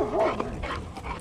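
Dogs bark and whimper at an off-leash park where a bulldog and a shepherd are playing. The sounds are short and fairly close, with a brief yelp and whine at the start.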